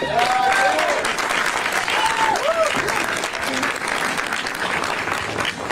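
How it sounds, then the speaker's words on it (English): An audience applauds a speaker at a San Francisco press event on Sanctuary City status, sustained loud clapping with cheering voices rising over it early on. "Big round of applause for Kim Tavallone"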